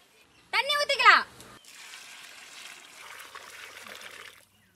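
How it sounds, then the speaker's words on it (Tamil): Water pours into a pan of egg idly masala spiced with garlic paste, turmeric, chili powder and garam masala, cooking in a village kitchen. A brief voice comes first, then a soft steady trickle lasts about three seconds. "தண்ணி ஊத்திக்கலாம்."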